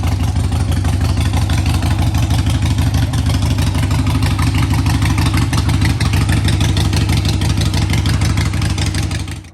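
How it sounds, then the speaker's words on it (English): A motorcycle engine runs loud and close, a rapid even idle with mechanical clatter that rises slightly in revs partway through, then cuts off abruptly at the end. "This bike runs really good and it's ready to be ridden down there"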